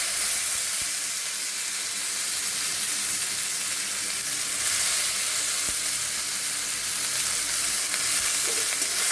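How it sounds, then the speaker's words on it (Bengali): Chopped onions fry in hot oil for a katla fish kalia, making a loud, close, continuous sizzle and hiss with no voices over it. "পেঁয়াজগুলো ভালো করে ভাজা হোক"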